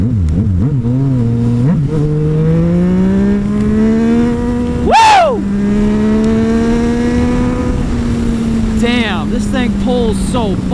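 A Yamaha FZ-09 motorcycle with a Black Widow full exhaust revs hard and loud, its engine note rising and falling in steady sweeps, with a sharp whooshing pass near the middle.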